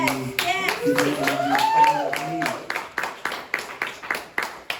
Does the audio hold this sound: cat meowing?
no